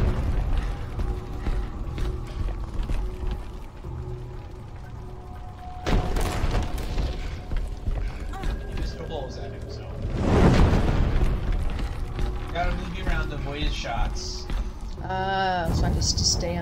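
Boss fireballs and roaring fire in Never Alone: heavy whooshing bursts and rumbling impacts swell up around the six- and ten-second marks over a continuous crackling, mechanical game backdrop, with a person talking throughout.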